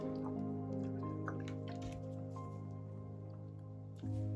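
Water trickles and drips into a cup of acrylic paint, faint, close splashes over a steady background hum, with a brief louder wet sound near the end.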